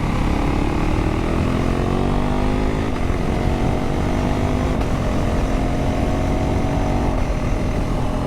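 A Husqvarna Svartpilen 401 motorcycle accelerating hard on an open road with the quickshifter, its engine a loud, steady drone that rises in pitch through each gear, with brief clean shift breaks and constant wind rush.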